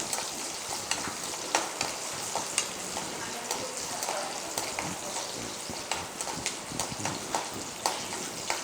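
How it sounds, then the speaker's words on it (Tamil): Onions sautéing in a pan until reddish for a Salem-style tomato kurma, with a steady broadband sizzle and frequent clicking stirs of a spatula against the metal. "நல்லா வெங்காயம் கொஞ்சம் நல்லா செவந்து வர வரையும் கொஞ்சம் நேரம் வணக்குங்க."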